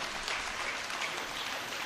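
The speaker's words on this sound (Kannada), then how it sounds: "ಚಪ್ಪಾಳೆಯ ಮಳೆ ಸುರಿಬೇಕು." Sustained applause from a ceremony audience at the Dharmasthala Lakshadeepotsava, a dense, steady wash of many hands clapping that fills the whole stretch with no pauses.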